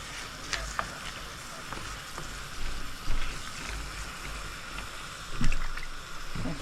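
Ash gourd is sautéed in spices in a pan, a moderate sizzle broken by several scraping and splashing stirs of a spoon, heard close with no talk.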